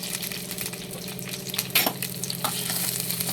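Ghee and oil sizzle in a hot kadai, a steady close frying crackle with brief stirring scrapes and no talking.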